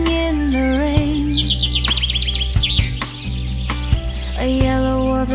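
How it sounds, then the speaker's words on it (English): Yellow warbler singing in China, a bright series of quick rising and falling chirps and whistled notes, fairly close and clear over a steady low background hum, with a few sharp knocks in between. "A yellow warbler sings"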